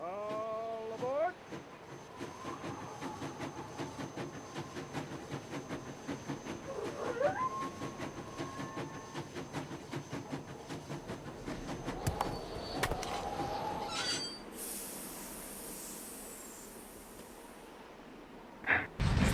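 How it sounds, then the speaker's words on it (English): A train pulls away from the station in the Nancy Drew game Last Train to Blue Moon Canyon, with a long rhythmic chugging and clatter, brief whistle-like tones, then a hissing rush near the end, under characters' talk. "Sounds like the train's leaving."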